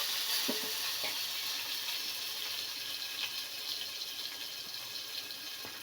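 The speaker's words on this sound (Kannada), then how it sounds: "ಒಗ್ಗರಣೆಗೆ ಸಾಸಿವೆ ಮತ್ತು ಜೀರಿಗೆ ಹಾಕೋಬೇಕು" Mustard seeds and cumin crackle and sizzle in hot oil for tempering rasam, a bright continuous hiss with scattered pops, close and fairly loud with no talking.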